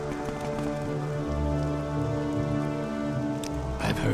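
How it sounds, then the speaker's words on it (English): Steady rain from the Morrowind Tribunal video game pours in a continuous soft patter and hiss, with game music sustained underneath throughout. "Okay, never mind, it's still raining apparently."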